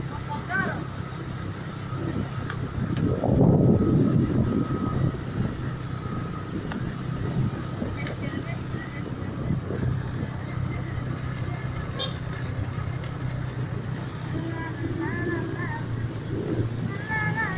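A motorcycle engine hums steadily while riding along a road, a constant mid-pitched drone with wind rush, with people talking over it throughout.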